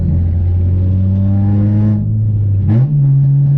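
A stripped-out, straight-piped Honda Civic EP3 Type R engine drones loudly at steady revs, drops briefly, then blips up sharply on a downshift and holds a higher pitch, close and raw.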